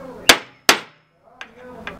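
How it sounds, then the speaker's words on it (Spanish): A hammer strikes a center punch to mark hole centres on a metal plate: two loud, ringing metallic blows, then two lighter taps, close and clear with no talk. "Para eso vamos a usar un punzón y un martillo."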